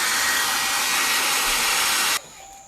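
A hair dryer blows in a steady, loud whoosh to dry glue on a vintage drawer, running close for about two seconds before cutting off abruptly, leaving a faint residual hum.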